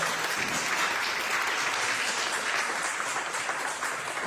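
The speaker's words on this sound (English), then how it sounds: "Let's give another round of applause." An audience at a school oratorical contest applauds the participants, a steady wash of clapping at moderate distance that runs the full length without talk.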